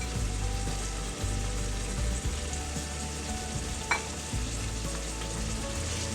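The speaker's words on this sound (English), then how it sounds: "The dry spice powders, if it gets mixed in the oil and fried for a little bit" Dry spice powders such as cumin and garam masala frying in hot oil for a pressure-cooker vegetable biryani, a continuous close sizzle with stirring scrapes throughout, no voices.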